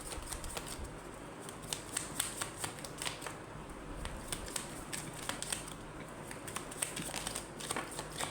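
Tarot cards shuffled by hand during a reading, a steady run of soft papery riffles and flicks with no speech, fairly quiet and close throughout.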